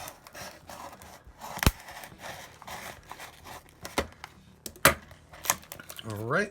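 A Blokees Defender toy package is opened with rustling, rubbing and a few sharp snaps or clicks, while someone speaks briefly nearby.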